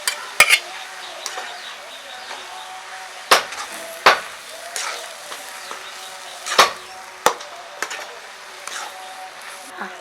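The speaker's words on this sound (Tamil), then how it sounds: "இதை மூடி போட்டு வேக விடாமல் இப்படியே நல்லா கிளறி விடுங்க" Goat blood fry is stirred in a pan with a metal spoon, producing sharp intermittent clanks and scrapes over a low sizzle, close by, with a few scattered moments of talking.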